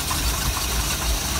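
A freshly rebuilt 4.3 Vortec engine in a Harris Flote Dek Corso 180 pontoon boat runs with a steady low rumbling drone, close and continuous.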